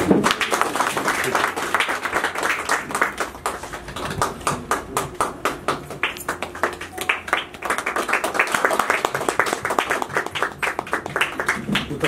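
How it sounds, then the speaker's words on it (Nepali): An audience at a congratulatory ceremony claps at length, with dense, sustained rapid claps rising and falling in intensity and some voices mixed in. "सबैले जोरदार ताली बजाइदिनु हुनेछ"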